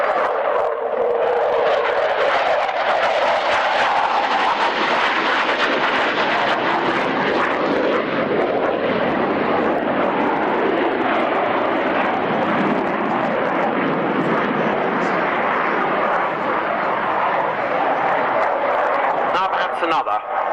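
At the Yeovil airshow, an aerobatic plane flown by Anatoly Kocher roars continuously through a manoeuvre sequence, its engine note swelling and shifting in pitch as a commentator speaks over it.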